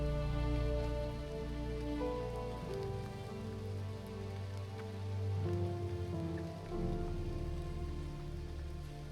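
Rain falls on a steep, slippery trail on Mount Leuser, a steady wash of drops under a loud tonal drone that runs throughout, with no voices.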